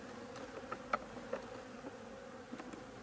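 Steady insect buzzing from many honey bees at a hive, a continuous droning hum with a few brief louder flickers as individuals pass close.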